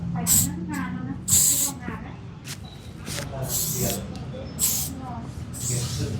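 Several short bursts of hairspray hiss over freshly cut hair in a barbershop, each spray lasting about half a second and recurring at uneven intervals while people chat nearby.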